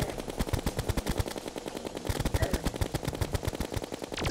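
Mega Shark gun firing in Terraria, a rapid, relentless stream of sharp electronic shots at a steady fast rhythm, loud and up close with no talking.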